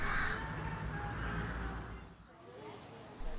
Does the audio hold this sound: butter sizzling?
no